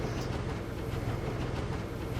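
A goods train rolls steadily along the rails with a continuous rumbling, rattling clatter that stays close and even throughout, with no voices.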